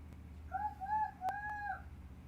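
A single rooster crow rings out close by, a short clear call of about a second over a low background hum.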